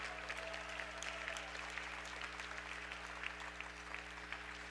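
Audience at a literary gala in a large hall applauding a guest called out by name, a faint, even patter of clapping spread across the room over a steady low hum, with no one speaking.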